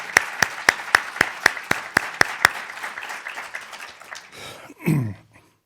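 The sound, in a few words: audience applause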